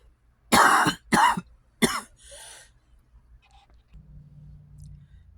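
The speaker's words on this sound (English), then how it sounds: "Every time I try to do this, I have some sort of coughing fit." A few harsh coughs burst out in a quick cluster, followed by a softer throat-clearing rasp, then quiet with a faint low hum.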